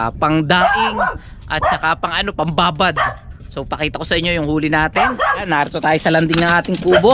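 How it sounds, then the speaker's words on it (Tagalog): A dog barks repeatedly at a hut's landing beside a milkfish catch, yapping in quick bursts mixed under someone talking steadily throughout. "Ayan ang aso natin"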